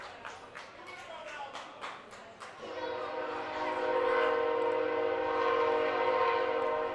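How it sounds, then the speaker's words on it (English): A train rolls by a baseball field during a Class B regional tournament game, its wheels clattering rhythmically before a loud sustained horn blast takes over, with people talking underneath. "As another train rolls by,"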